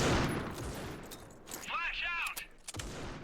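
Quick bursts of gunfire from the mobile shooter Critical Ops crackle in short rattling volleys during a tournament match, with a voice speaking briefly between the shots.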